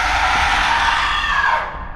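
A loud, bloodcurdling scream rings out as a sustained, piercing shriek that holds steady for over a second before trailing off, alone without other sounds.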